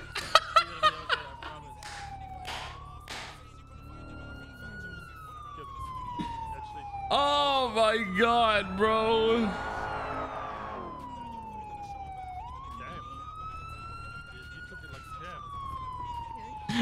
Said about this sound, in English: that's all I hear is sirens